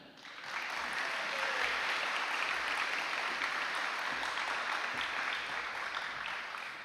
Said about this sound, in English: How about a round of applause for Cooper Mummy?